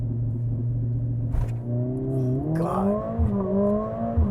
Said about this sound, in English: now let's do a proper race start, but still in drift mode